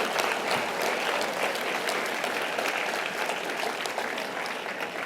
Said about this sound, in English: you need to give yourselves a big round of applause for tonight